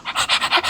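A dog makes a quick series of five or six soft, breathy, rasping bursts close by, like rapid panting or snuffling, with no voices over it.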